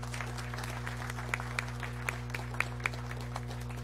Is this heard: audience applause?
yes